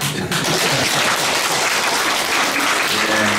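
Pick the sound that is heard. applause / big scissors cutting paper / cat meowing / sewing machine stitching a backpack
applause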